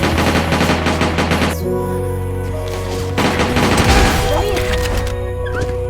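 Sniper rifle and automatic gunfire in the CF Mobile shooter game during a two-versus-four endgame: loud, dense bursts of shots and impacts over a low droning game soundscape, with a brief lull in the middle.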